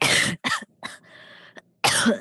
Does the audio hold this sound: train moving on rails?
no